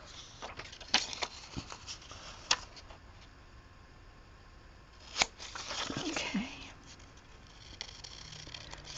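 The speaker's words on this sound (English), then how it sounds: "this is why you want long scissors to do a long cut" Long scissors cut through paper in a few crisp snips, then a longer slicing stretch, close by and fairly quiet, with soft rustling between cuts.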